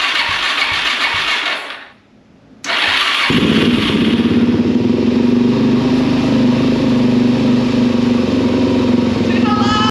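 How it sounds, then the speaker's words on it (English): Supermoto motorcycle with the choke on cranks slowly for about two seconds with a labored whir, goes briefly quiet, then catches and settles into a loud, steady idle up close; someone speaks over the opening. "y'all hear how slow it's starting?"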